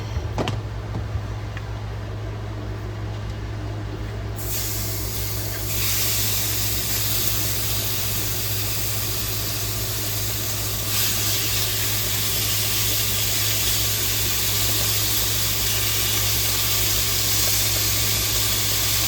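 Fajita ingredients hiss and sizzle in a hot pan on a home stove, a loud, steady broadband hiss that swells after a few seconds and holds evenly throughout, with no talking.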